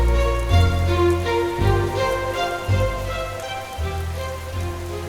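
Heavy cartoon rain falls in a dense, steady patter, with low thumping swells and a tonal musical bed running underneath.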